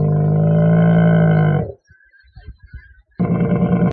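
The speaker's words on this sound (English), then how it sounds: "Camel." A camel gives loud, deep, buzzing groans: one long sustained bellow, a pause of faint gurgling grunts, then another rough groan starting near the end.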